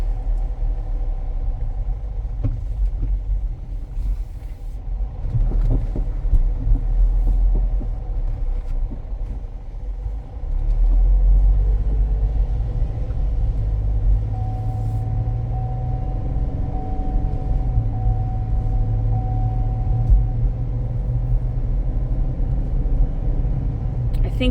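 A 2011 GMC Terrain is driven along a road, with a constant low rumble of engine and tires and occasional faint knocks from the suspension, while a person talks intermittently over it.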